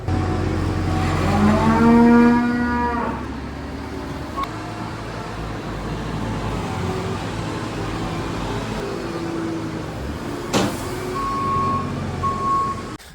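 Heifers on a dairy farm with a robot milking shed let out a loud, drawn-out moo close by, over a steady mechanical hum, followed by a sharp knock and an intermittent reversing-style beep.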